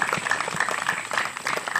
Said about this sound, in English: You can clap yourselves if you like.